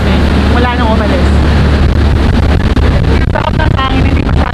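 On a Dubai ferry, a boat engine rumbles with heavy wind buffeting the microphone and water rushing past, loud and constant, while people talk underneath.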